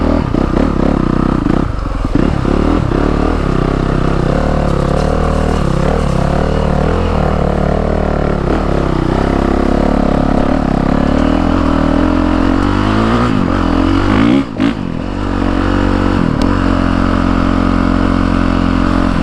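A new motorcycle with fresh tires rides on a muddy stretch, its engine droning loud and steady throughout with slight shifts in pitch and a brief dip near the end.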